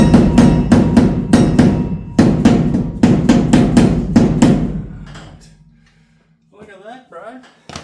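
Hammer blows on the back of a differential in an HQ GTS Coupe mounted on a rotisserie, a rapid series of loud, close metallic strikes in bursts for about five seconds, fading to quiet with brief talk afterward.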